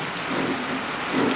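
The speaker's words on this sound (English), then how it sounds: "Hate the bloody rain." Steady rain falls outdoors, a dense even hiss of drops that fills the moment without voices or pauses.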